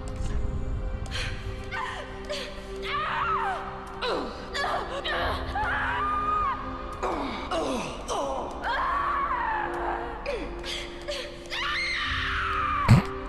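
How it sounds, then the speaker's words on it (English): Character scream from Dark Souls III character creation, a voiced gasp and wailing moan that swells and breaks repeatedly across the stretch, heard over a steady music bed. "That fucking scream"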